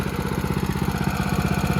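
A Motovox minibike's small engine idles steadily nearby, a loud, even, rapid chugging pulse that runs without a break and with no voices over it.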